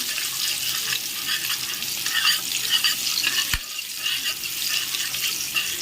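Spoon stirring garam masala through potato samosa filling in a pan, a steady scraping and faint sizzle running evenly throughout, with one sharp knock partway through and no talking.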